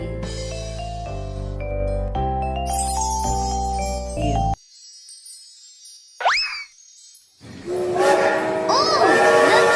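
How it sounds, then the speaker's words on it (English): A cartoon train approaches to bright, tinkling musical tones, then a sweeping whistle sounds before a louder rumbling, jingling passage of the arriving train, all fairly loud. "Oh, the train is coming."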